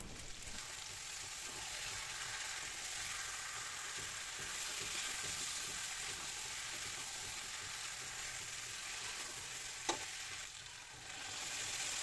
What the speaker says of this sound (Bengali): এভাবে আরেকটু সময় আমি কষিয়ে নিয়ে তারপর জলটা দিয়ে দেবো।